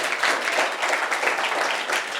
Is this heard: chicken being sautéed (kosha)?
no